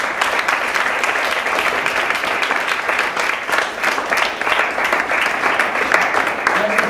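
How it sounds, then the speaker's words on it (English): Dense, steady applause from a debate audience for both teams, a continuous wash of many hands clapping at full volume with no break throughout. "if we could just give both teams a round of applause"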